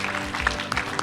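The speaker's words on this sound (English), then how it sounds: "Can you give yourselves a round of applause again and the candidates again?" A crowd applauds candidates at a 2018 election candidates' night forum, giving a short burst of steady, dense clapping from a room audience.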